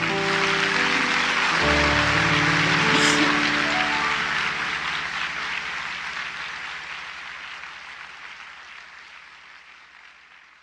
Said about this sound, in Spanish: Ofrézcale una ofrenda de aplausos al Señor.